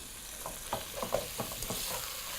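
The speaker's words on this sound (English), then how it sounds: "continue frying this at high heat" Mutton sizzles steadily in a hot pan at high heat for biryani, with irregular scraping and stirring clicks layered over the constant hiss.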